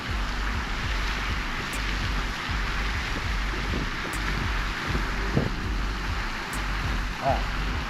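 Strong gusting wind buffets the microphone outdoors during a DJI Mini 2 drone flight near a fountain, a steady loud rumble with low thumps throughout and no other clear sounds.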